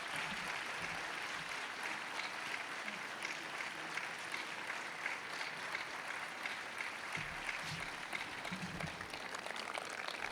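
A college audience claps steadily to welcome Congressman Joseph Kennedy III, dense sustained applause filling a hall at moderate level, without talk.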